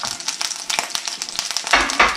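Olive oil sizzles steadily in a pan, with clicks and scraping through the hiss and a louder burst of frying near the end.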